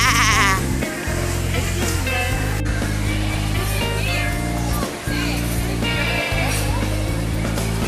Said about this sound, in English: You see the sheeps, man? What sheep say?